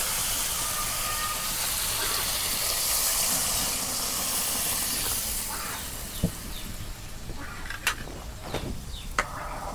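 Bata fish, already browned with onions in mustard oil, cooks in a pan just after a splash of water goes in. A loud, steamy hiss slowly settles into a quieter simmer, with a few scattered clinks and taps.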